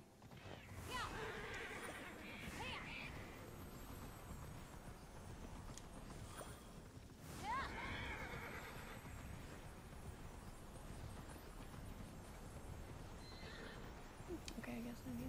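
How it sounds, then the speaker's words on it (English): Horse in Immortals Fenyx Rising whinnying loudly a couple of times over continuous clip-clopping hooves, with a voice faintly present in the background. "Oh yeah, I forgot about the horse."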